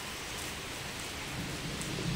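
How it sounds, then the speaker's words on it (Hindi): Steady heavy rain pours down with wind, a dense continuous hiss, while low rumbling thunder swells underneath toward the end; no one speaks. "बारिश रुक जाती है तो।"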